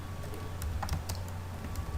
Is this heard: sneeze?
no